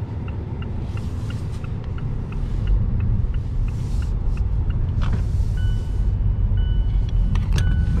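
A car passes on the road beside a parked Mazda 6, its rumble building and holding steady over several seconds, with faint clicking ticks and a brief hiss in the background.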